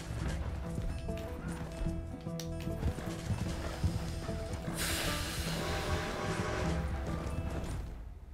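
Horse hooves clop steadily over a dense, loud Red Dead Redemption 2 soundtrack, with a neigh and a burst of noisy crashing partway through.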